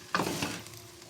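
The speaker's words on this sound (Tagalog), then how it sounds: "kailangan na natin ng 2 sandok para mahalo nating maayos" Adobo sauce with chicken feet stirred with two ladles in a hot pan, one brief scraping stir over a quiet, soft sizzle.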